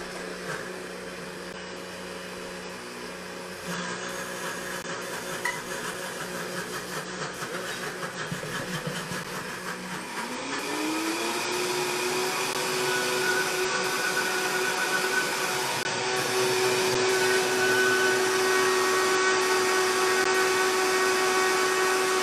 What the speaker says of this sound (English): Just to loosen the puree so it runs through the blender a little smoother.